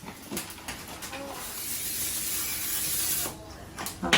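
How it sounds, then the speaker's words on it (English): A steady aerosol hiss of cooking spray onto a pan sprays for about two seconds, close and fairly loud, with short spurts before and after. "I'm spraying my pan"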